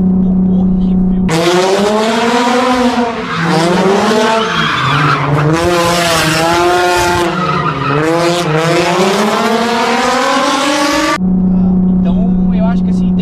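A Nissan 350Z's aftermarket exhaust snarls through repeated rising and falling engine revs, loud and close, sustained for about ten seconds.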